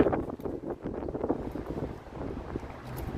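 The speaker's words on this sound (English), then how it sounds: "And this wind is ridiculous here." Strong gusty wind buffets the microphone at Toronto's Harbourfront on a stormy day, a continuous low roaring rumble with surging gusts and no talk.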